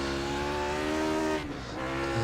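Lotus 49 race car in the iRacing sim, its engine droning loud and steady with strong harmonic bands, easing briefly in pitch mid-way before pulling again, no talking.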